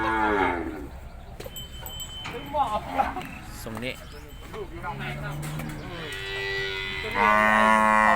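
Cattle moo repeatedly at a Thai cattle sale, several drawn-out calls near and far, mixed with busy crowd chatter and bargaining voices throughout.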